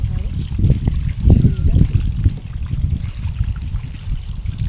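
Running water trickles and splashes steadily as freshly picked grapes are rinsed one by one for making pekmez, with someone talking over the flow.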